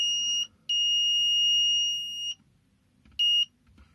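A custom sonic screwdriver with an aluminium body and orange LED emits loud, steady high-pitched electronic tones: a short beep, a long sustained tone of nearly two seconds, then another brief beep, with quiet gaps between.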